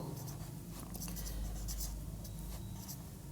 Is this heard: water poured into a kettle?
no